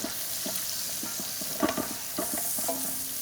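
Lobster with ginger and thyme cooks over gentle low heat in a pan, giving a steady soft sizzle broken by scattered clinks and scrapes of stirring, close and fairly quiet, with no talking.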